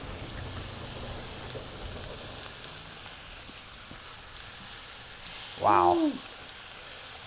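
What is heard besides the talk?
bacon sizzling while frying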